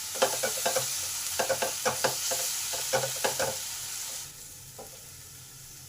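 Spice paste stir-fried in a pan over a soft sizzle, with repeated scraping and knocking of a spoon against the pan in quick irregular bursts. The stirring then stops and only a quieter hiss remains.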